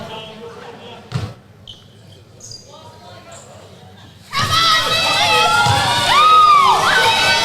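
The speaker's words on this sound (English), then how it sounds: "home crowd getting a little vocal, trying to get their boys over the line" A home crowd at a Queensland Basketball League game between Toowoomba Mountaineers and Mackay Meteors roars and cheers loudly and continuously after a quieter stretch of scattered shouts and a ball bounce, with a commentator talking over the noise.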